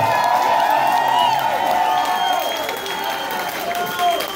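Audience applause and cheering for a Bulgarian band, a steady wash of clapping from a crowd that holds at a fairly loud level throughout.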